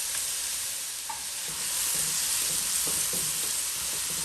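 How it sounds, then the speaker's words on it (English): Chopped green seasoning fries in hot oil for Guyanese-style fried bora and shrimp, a steady bright sizzle throughout with soft intermittent stirring scrapes underneath, close and continuous. "Now you're going to fry your green seasoning for about 2 minutes or so in the oil."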